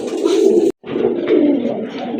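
Pigeons in a Bangladeshi breeder's collection coo in low, rounded, steady phrases, close and fairly loud, with one short break before the cooing resumes.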